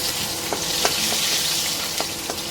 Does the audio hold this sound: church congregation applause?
no